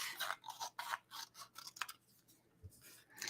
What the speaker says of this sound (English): let me grab a pair of scissors